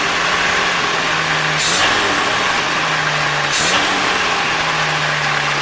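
Carbureted engine of a 720 running at a steady idle hum, with two brief rev blips that rise and fall back, close and moderately loud with no speech.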